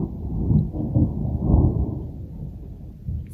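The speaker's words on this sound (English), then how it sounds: "it's still really cool to hear all the thunder" Deep rolling thunder rumbles continuously at night in Teton National Forest, swelling and fading in low booming waves with no voices.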